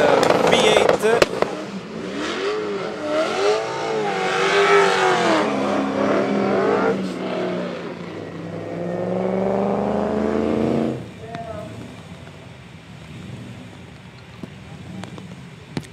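BMW M2 fitted with a V8 engine drifting at a competition, its loud engine revving and sweeping in pitch, with pops and bangs at the start, under constant commentary and crowd noise.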